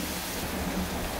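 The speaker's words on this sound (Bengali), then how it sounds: "আজকে বাইরে বৃষ্টি হচ্ছে এত, এখনই শুরু হয়ে গেল" Heavy rain pours down outside, a dense, even wash of noise heard alone for a brief moment.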